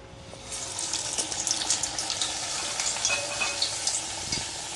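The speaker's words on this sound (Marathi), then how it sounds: "हा वडा असा तेलात हलक्या हाताने सोडायचा आहे" Medu vada batter slips into hot oil and fries with a dense, continuous sizzle and crackle, close and fairly loud, with small bubbling pops throughout.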